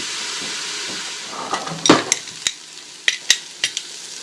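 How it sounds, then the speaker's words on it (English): Vegetables sweat in olive oil in a pan over medium to medium-high heat, a steady soft sizzle with sharp clicks and scrapes of stirring scattered through. "Get the vegetables evenly coated with the olive oil, and then we'll slowly sweat at medium to medium-high heat."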